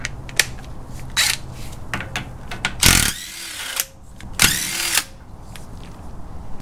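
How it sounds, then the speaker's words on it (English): An impact gun zips castle nuts off a first-generation Toyota 4Runner solid front axle, with several short bursts and two longer whirring runs, loud and close in a garage setting. "I'm just gonna zip it off with my impact gun."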